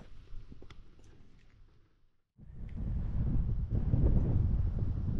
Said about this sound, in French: Alors le vent s'est levé là, hein, le vent du sud d'Espagne.